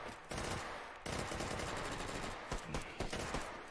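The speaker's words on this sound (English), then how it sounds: "He pulls out the MGL to clear the last agile." Rapid automatic weapon fire in a video game as an MGL grenade launcher is used to clear the last enemy, a dense run of loud bursts and thumps filling the whole stretch with no talk.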